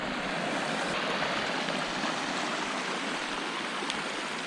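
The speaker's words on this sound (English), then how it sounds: "it's just dripping out kind of everywhere" Meltwater drips and runs everywhere during a spring thaw, forming a steady, continuous rush of trickling water, fairly quiet and with no voices.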